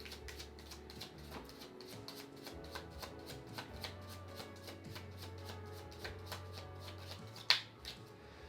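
Oracle cards being shuffled by hand, a close, quiet run of soft riffling flicks and taps in an irregular rhythm, with one sharper snap near the end and no talking.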